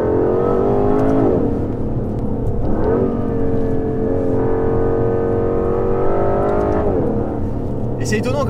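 An Aston Martin accelerates hard at full throttle, its engine note climbing steadily through several gear changes with brief dips between them, loud and continuous from inside the car, with someone talking over it.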